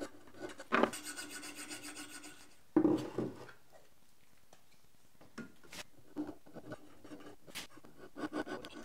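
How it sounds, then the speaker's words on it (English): A hand scraper is worked over a metal part of an Ellis dividing head being restored, producing two bursts of harsh rasping strokes followed by quieter, scattered scraping and scratching. "I'm gonna do a little bit of work on this with the hand scraper,"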